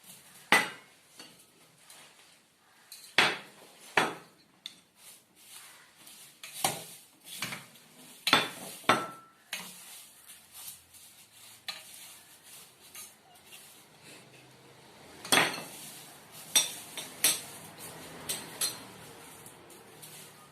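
A spoon scrapes and clinks against a bowl while chaat ingredients are mixed for a flameless snack, with irregular sharp clatters over about twenty seconds and no talking.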